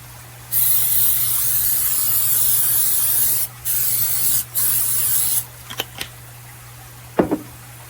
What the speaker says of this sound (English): spray our baking dish right here